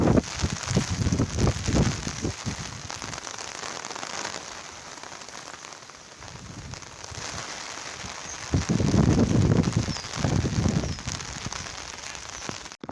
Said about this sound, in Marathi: पाऊस चालूच आहे आता हवा पण भरपूर सुटली आहे